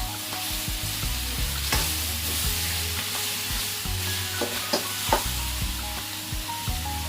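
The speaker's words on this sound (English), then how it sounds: "Keep stir frying." Chicken chopsuey with oyster sauce is stir-fried in a pan, giving a steady close sizzle broken by the scrape and clatter of a utensil tossing the food.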